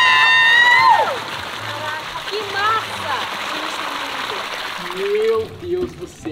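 Water and orbeez gel beads pour from a bucket into a home swimming pool, a steady splashing cascade lasting several seconds while excited people shout and talk over it.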